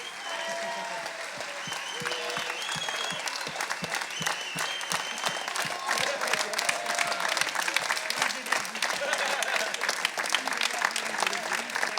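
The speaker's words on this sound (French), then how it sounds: "C'est pour ça qu'ils méritent vos applaudissements." A festival audience applauds at a closing speech, scattered claps building into a lively, dense round that grows louder and steadier over about twelve seconds.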